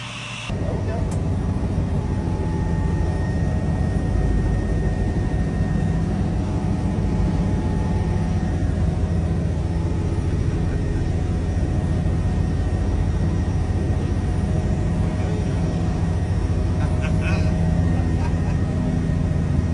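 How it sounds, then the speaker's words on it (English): A helicopter on a scenic ride makes a steady, loud engine and rotor drone heard from inside the cabin, continuous and unchanging throughout. "I'm fixing to take my second helicopter ride"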